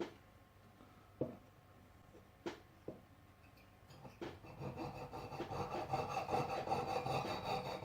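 Faint scattered taps and clicks, then a fine saw rasping steadily back and forth through a metal French military signet ring, growing louder toward the end.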